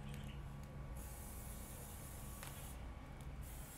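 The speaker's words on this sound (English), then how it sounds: "I'm going to take a little olive oil, spray on the inside of my pie irons" Olive oil misted from a spray can onto the inside of cast pie irons at a backyard campsite, a steady broad hiss held for about a second, then two shorter bursts over a low background hum.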